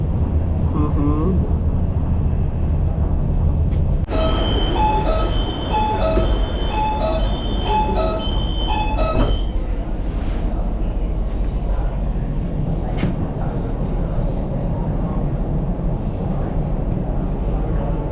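A passenger train in Lahore, Pakistan rumbles steadily from inside or close by, with a loud continuous low roar, a few seconds of tonal chiming or horn-like notes partway through, and scattered clanks.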